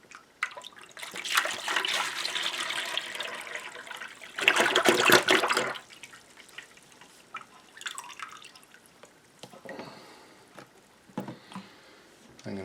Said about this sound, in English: We're going to pour in the mango juice